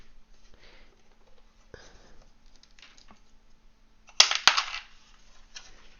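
Small coins clink and rattle as they are dropped into paper budget envelopes, a few faint taps early on, then a sharper cluster of metallic clicks and jingles before things settle quietly.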